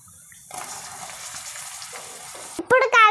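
Capsicum is tipped into a hot pan and begins frying, a steady broadband sizzle that rises suddenly and runs on loud and close, ending with a few sharp clanks and tonal scrapes of a utensil against the pan.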